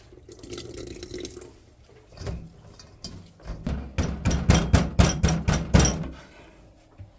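Blanched butterbur greens squeezed by hand to wring out their water, giving a run of close, wet dripping and splashing bursts that grow denser and louder toward the end, with no talk.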